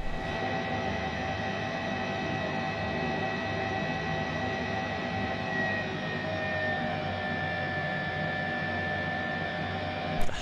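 An H-135 helicopter in Microsoft Flight Simulator 2020 gives a steady turbine whine with a broad rumbling roar. It holds constant and loud throughout, with no talk over it.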